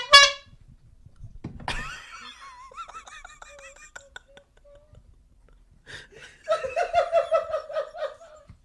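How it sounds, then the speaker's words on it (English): A single comedic horn honk blasts at the start, followed by a burst of laughter and chuckling from a small group, then a louder, rhythmic second honk or laughing phrase near the end. "Let's give it one horn honk"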